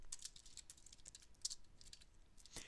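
Quiet clicking of keys on a computer keyboard during Python coding, a fast uneven patter of light taps over a soft background hiss, with no talking.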